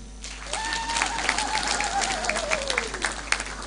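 Crowd at a Malawi Congress Party candidates' unveiling at the Lotus Hotel in Blantyre claps loudly for the president, a dense, steady applause with a high, slowly descending cry carried over it.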